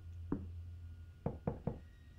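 Knocks on a door in the horror video game Visage: one single rap, then a pause, then three quick knocks in a row, hollow and moderately close over a low steady hum.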